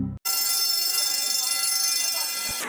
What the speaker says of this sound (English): Is that a fire alarm? Damn fire alarms!